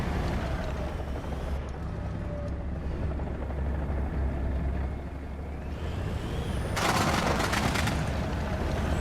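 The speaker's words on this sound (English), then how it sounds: "That's a helicopter." Helicopter in the War Thunder video game, a steady low rotor drone and engine rumble running throughout, swelling louder near the end with a burst of broadband noise.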